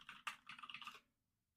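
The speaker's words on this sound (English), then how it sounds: "You're going to hear some typing right now." Quick, crisp keystrokes on a computer keyboard form a short burst of typing lasting about a second, close and quiet, with no voices.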